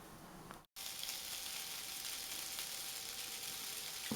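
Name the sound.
bratwursts browning on the Cobb barbecue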